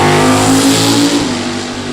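A 1967 drag racing car's engine revs loud and close at Byron Dragway, a steady heavy roar that fills the clip and fades slightly as it holds.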